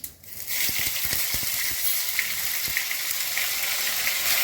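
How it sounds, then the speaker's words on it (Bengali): Cumin, garam masala and grated ginger hit hot oil in a Bengali home kitchen, raising a loud, steady sizzle that holds for several seconds after a brief quiet start, with faint clicks and stirring beneath. "জিরে গরম মশলা দিলাম, গ্রেট করা আদা দিচ্ছি,"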